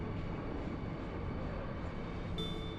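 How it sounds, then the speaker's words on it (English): A train in the video game Final Fantasy 8 rumbles and shakes with a continuous, fairly quiet low roar. A brief high-pitched tone enters near the end. "There was no damage to the train. There was just some shaking."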